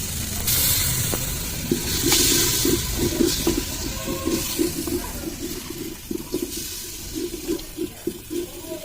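Water poured into a pot of spiced ginger and garlic for khichdi cooking on a clay stove, a steady rushing splash with gurgling and a hissing sizzle, close and loud, settling into bubbling.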